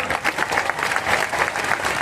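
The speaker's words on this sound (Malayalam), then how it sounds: "ഒരു ശക്തമായ കയ്യടി അദ്ദേഹത്തിന് കൊടുക്കുക" An audience at a marketing company event claps briskly and continuously, a dense burst of applause filling the room at close range.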